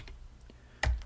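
A password is typed on a computer keyboard in a Linux terminal: a few soft, sparse key taps, then one sharper, louder keystroke near the end, close and alone.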